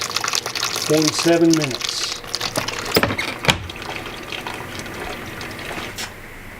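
A washing machine fills with water: a steady rushing, splashing wash of water throughout, with a few knocks and clunks, while a voice speaks briefly near the start.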